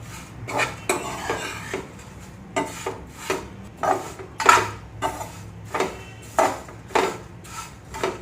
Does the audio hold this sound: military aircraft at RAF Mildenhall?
no